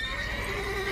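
A mare in The Witcher 3 gives a loud, close neigh, a drawn-out whinny that holds for the full second with no one talking over it.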